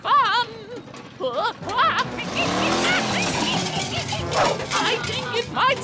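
Charlie's wobbly, rattly junk car in a children's cartoon rumbles along with a wavering engine and clattering noise under cheerful character voices, rising to a louder stretch mid-way.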